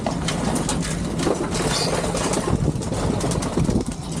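Pet stock pigeons are fed inside their loft on a rainy day, with soft cooing buried under a steady, dense wash of rain-like noise throughout.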